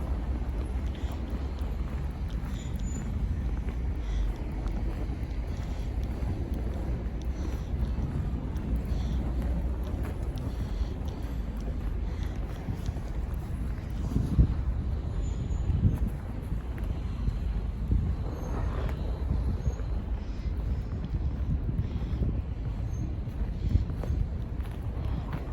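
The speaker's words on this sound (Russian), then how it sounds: "Снег метет." Winter blizzard outdoors, with steady broadband wind rushing and snow blowing throughout, loud and continuous, with occasional gusts and faint rustling close to the microphone.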